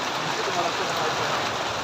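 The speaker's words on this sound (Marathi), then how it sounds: "आता पाऊस थोडा वाढला आहे" A dense, even roar of heavy rain fills the short stretch, with only a faint voice underneath.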